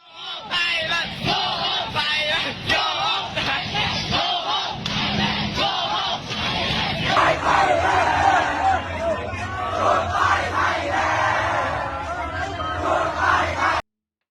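A crowd of Cambodian fans shouting and chanting together in a loud, sustained roar, voices overlapping continuously throughout with no pauses.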